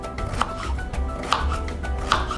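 Knife blade chopping potatoes into chunks on a cutting board, giving three clear, evenly spaced knocks over a steady low background hum.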